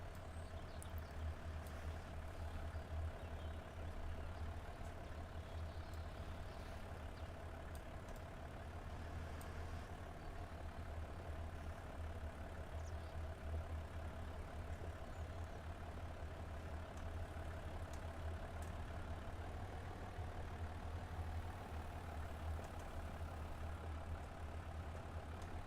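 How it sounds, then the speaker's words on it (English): Tractor engine driving in Farming Simulator 25, a steady low engine drone with a constant hum running evenly for the whole stretch, fairly quiet with no talking. "Look how smooth my tractor's driving up."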